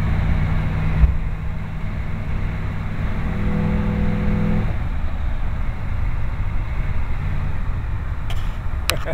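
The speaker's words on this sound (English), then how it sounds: "Boy, I love the sound of that old motor." Old Cadillac 472 V8 in a hearse idles and runs with a steady low rumble throughout, a brief tonal rise midway, with no talking.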